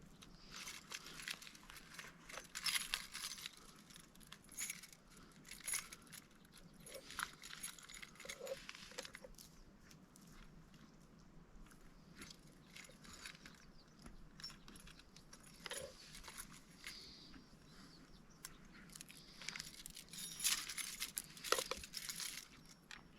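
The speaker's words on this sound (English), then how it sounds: "See, I got a set of keys." A set of keys jangles and clinks in scattered faint bursts close by over a long stretch, with small handling rustles between them and no one talking.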